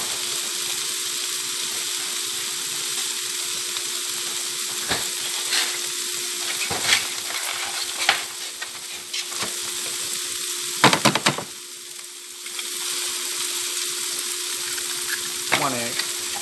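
Eggs frying in a pan, a steady loud sizzle running throughout, with occasional clinks and scrapes of a utensil against the pan.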